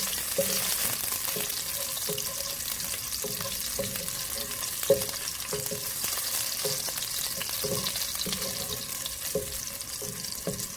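Garlic cloves, about a dozen, toasting in ghee with a steady low sizzle and frying crackle, punctuated by repeated stirring clinks and scrapes at an even pace, close and moderately loud, no talking.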